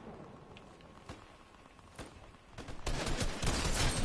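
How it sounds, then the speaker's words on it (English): Gunfire in the Fortnite video game, with scattered shots and then a dense, sustained burst of rapid fire toward the end, loud against quieter in-game movement. "someone's shooting at me"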